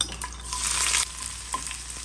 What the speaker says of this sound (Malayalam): എണ്ണ ഒഴിച്ച് കടുകിട്ട് പൊട്ടി കഴിയുമ്പോഴത്തേക്കും നമുക്ക് ആ മുളക് ഇട്ട് കൊടുത്ത് ഇതെല്ലാം കൂടെ ഇട്ട് കൊടുക്കാം